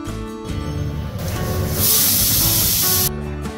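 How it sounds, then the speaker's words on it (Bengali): Pressure cooker of mutton curry lets off steam, a loud sustained hiss and spray that swells and holds for over a second before cutting off abruptly, with a whistling tone around it. "প্রেসারের ঢাকা লাগিয়ে সিটি দিয়ে নেব।"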